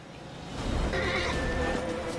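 In The Witcher 3, a wild horse gives a short whinny partway through, heard over game sounds and a low rumble, moderately loud and close.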